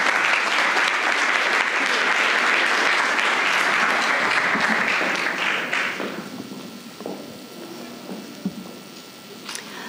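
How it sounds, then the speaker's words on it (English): Dense audience applause fills a meetup hall for a speaker taking the stage at a crypto regulation panel, steady and loud for several seconds, then thinning out into scattered claps and quiet room noise. "Big applause to Maya."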